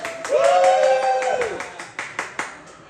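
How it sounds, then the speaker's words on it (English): An audience at a comedy club claps and cheers, a brief sustained whoop over clapping, then a few separate, fading claps. "More cheering!"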